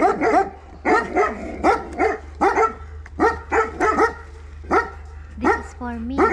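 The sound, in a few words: dog barking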